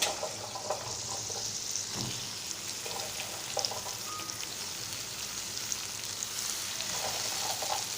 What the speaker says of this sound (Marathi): आता मी फणसाचे गरे घालत आहे